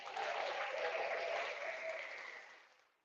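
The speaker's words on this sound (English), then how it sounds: "You get a round of applause for that." A burst of applause, dense and even, sustained for about two seconds before tapering off into silence.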